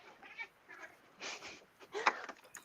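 A house cat meows several times in short, uneven bursts, fairly close and moderately loud, with quiet room noise between the calls.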